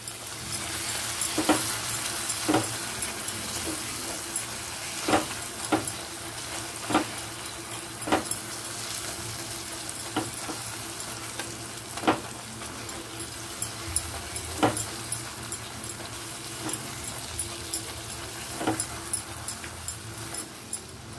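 Spice masala sizzles with salt in a pan for mixed dal fry, a soft steady hiss broken by scattered sharp scrapes of a spatula stirring, close and moderately quiet with no one talking.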